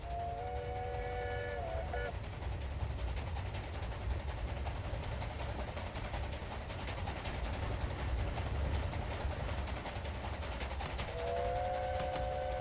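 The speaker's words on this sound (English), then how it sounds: "IET's about to rush through." An IET passenger train rushes past on the line beside a narrow gauge steam railway, a steady loud roar of wheels and wind lasting throughout, with a two-tone horn sounding at the start and again near the end.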